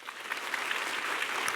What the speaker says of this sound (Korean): 경기 동남지의 목사님들 얼굴이 화면에 비칠 때에 박수 한번 주세요.